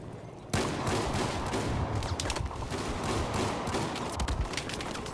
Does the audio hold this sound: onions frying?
no